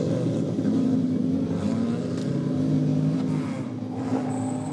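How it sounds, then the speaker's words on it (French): Peugeot 205 GTI rally car engine droning and revving at the start of a rally in the Ajaccio region, a steady loud motor hum with shifting pitch that dips slightly toward the end. "là encore une voiture de la classe des 205 GTI"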